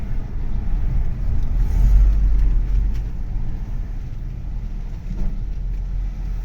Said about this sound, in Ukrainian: Ми вирішили з'їхати автомобілем, бо на горі немає місця, де припаркуватися абсолютно.